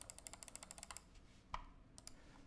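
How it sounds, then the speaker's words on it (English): Computer mouse clicks at keyboard level, a quick run of about a dozen faint, sharp taps at the start, then a few scattered clicks after a pause, all quiet and close with no talking. "This is how loud mouse clicks are at keyboard level."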